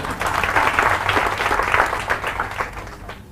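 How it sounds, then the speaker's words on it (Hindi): An audience at a sales training seminar claps in a burst of lively, fairly close applause that holds strong for a few seconds and then thins out toward the end, with no one speaking over it. "तो इनके लिए तालियां बजाओ एक बार"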